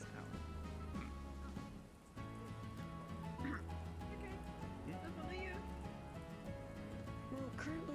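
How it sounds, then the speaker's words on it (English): Rain falls steadily through the whole stretch as a continuous patter, with voices talking over it. "Well, currently it's raining."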